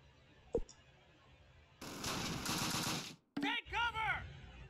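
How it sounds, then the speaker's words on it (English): Heavy gunfire in the Close Combat Wacht am Rhein wargame, a sharp single shot then a dense loud burst of rapid fire, followed by chirping, whistling game effects after a short gap. "We're under heavy fire."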